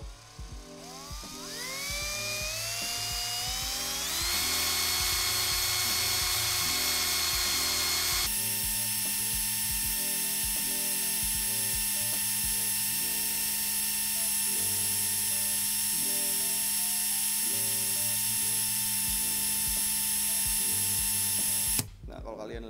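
A cordless battery drill running under 2000 RPM twists wire into a fused Clapton coil, a steady high whine with a rising pitch at the start, then a constant loud drone that holds for about twenty seconds before cutting off.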